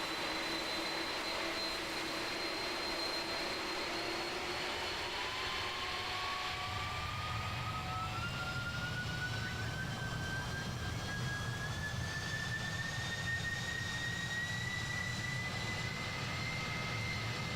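Boeing 767 jet engines spool up to full throttle in Microsoft Flight Simulator 2020, a steady loud roar with a whine rising in pitch as thrust builds, joined by a deeper rumble partway through, no talking.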